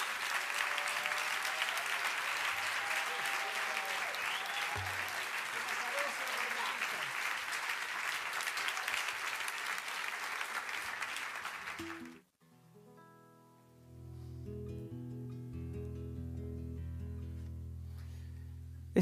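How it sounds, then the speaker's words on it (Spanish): A live audience gives a strong, sustained round of applause for the improvising poet Alexis Díaz Pimienta at a décima improvisation performance, dense clapping with a few voices mixed in, cutting off abruptly before music begins. "les voy a pedir un aplauso muy fuerte para el maestro del azar"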